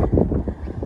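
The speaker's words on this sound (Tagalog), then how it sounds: "Sarap na hangin." Wind gusts buffet the microphone at the top of Lion Rock, a low, rumbling rush that swells and fades briefly.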